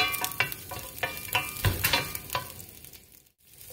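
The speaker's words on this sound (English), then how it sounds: "Let's kick them around a little bit to get a little bit of aroma from the garlic." Garlic frying in hot oil for Vietnamese pâté, pushed around the pan in a series of close, rhythmic scraping strokes over a steady sizzle that fades near the end.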